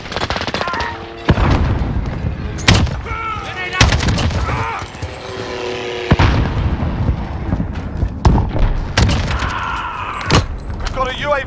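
Gunfire and explosive blasts in a military shooter video game, with a thrown grenade: several sharp broadband bangs scattered across the clip over a busy bed of battle noise, and game voices talking throughout.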